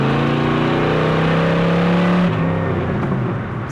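Exhaust pipes on a Corvette resto-mod, heard from inside while driving: a loud, steady engine drone that holds its pitch, then drops suddenly around a gear change and settles to a lower rumble.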